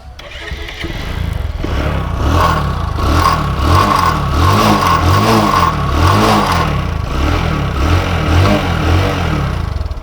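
A second-hand motorcycle engine runs close and loud, holding a steady idle broken by a series of rhythmic revs and throttle swells, with no talk over it.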